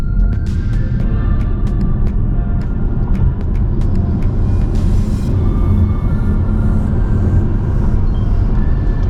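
A Cupra Born electric car accelerates hard during an overtaking test, a steady loud rumble of road and drivetrain noise filling the cabin throughout, with faint whine tones above and no talking.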